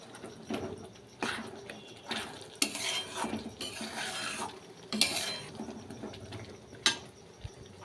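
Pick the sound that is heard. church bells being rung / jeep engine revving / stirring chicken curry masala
stirring chicken curry masala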